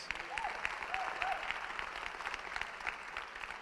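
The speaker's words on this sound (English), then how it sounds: "Can we get them a round of applause?" Audience applause for students at a gala dinner, a steady wash of clapping from a room full of people, moderately loud and continuous, with a few voices mixed in.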